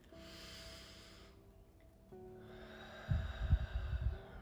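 Deep breath drawn in and let out during a calming nervous-system reset, a soft airy hush that swells into a louder, rougher low exhale near the end, with no talking.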